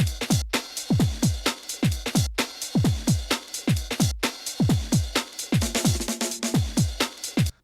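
A 909-style drum beat plays alone, punchy kicks in a steady rhythm with snare hits and hissing hi-hats on top, loud and continuous with brief dropouts between bars.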